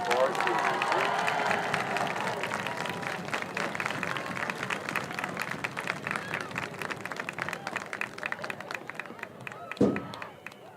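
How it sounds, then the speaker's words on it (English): A crowd gives steady applause for first-year marching band members at a home band competition. The dense clapping carries on for about ten seconds with faint chatter underneath, then a sharp thump sounds near the end. "Can everybody please give a round of applause to all our first-year marchers."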